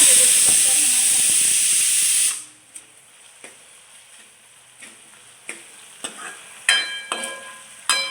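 Tomatoes fry in a pan with a loud, steady sizzle for about two seconds. The hiss then drops to a quieter crackle, broken by scattered clinks and scrapes of stirring.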